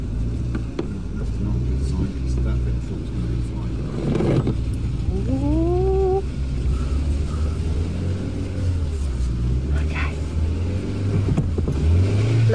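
A car crawling in low gear through slow festival traffic, with a steady engine rumble and drone throughout, and people talking inside the vehicle over it.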